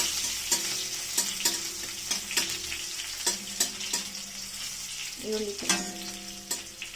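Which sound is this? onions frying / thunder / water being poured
onions frying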